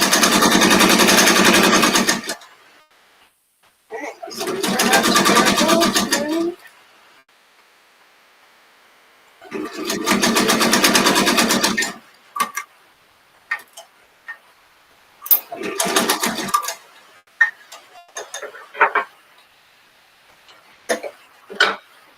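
Sewing machine stitching a princess cut bat in short, loud bursts of rapid needle strokes with pauses between, followed by scattered clicks and small handling noises.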